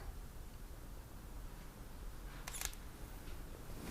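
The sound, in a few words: Sony camera shutter firing with 100mm STF lens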